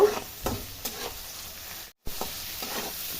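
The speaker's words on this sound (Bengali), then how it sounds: "দিয়ে মাছগুলো ভেজে নিব।" Prawns frying in hot oil seasoned with turmeric and salt, giving a steady close crackling sizzle with a few stirring scrapes and a brief silent gap midway; no one talks.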